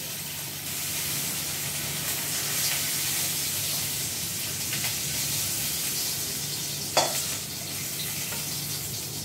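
Prawns fry in hot oil for a spiced prawn-and-jackfruit mash, giving a steady, close crackling sizzle throughout with one brief sharper burst near the end; no one speaks.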